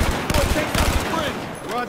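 In Battlefield 4, a helicopter's Gatling gun fires in rapid, rattling bursts of close, dense shots, with a brief pause between volleys and some game noise underneath.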